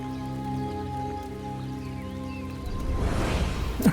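A sudden rain shower falls outside a house, starting as a steady broadband hiss that swells to the fore after a held, tonal musical drone fades out, then continues as dense, even patter close by.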